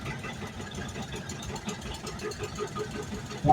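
A 1949 John Deere model R tractor rolls past in a farm show parade, its engine giving a steady low chugging idle under broad outdoor rumble and crowd noise, moderately near throughout.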